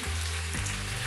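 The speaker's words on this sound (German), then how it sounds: "Jetzt kommen die Bohnen und das restliche Hackfleisch in die Pfanne." Green beans and minced meat sizzle and fry in a hot wok for Thai pad krapao, a steady, loud, continuous crackle with no voices.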